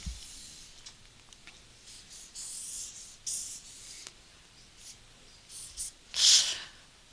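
Marker squeaking and rubbing across a board as an iceberg is drawn in a keynote room, short scratchy strokes in uneven bursts with one louder squeak near the end, quiet and close.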